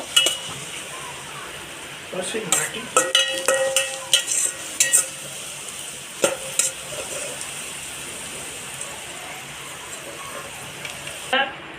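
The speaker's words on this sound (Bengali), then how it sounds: "পেঁয়াজটা তো লাল লাল করে ভেজে নেব" Onions frying in oil until browned give a soft, steady sizzle, broken by several clinks and scrapes of a utensil against the pan, with a short cluster of knocks in the middle.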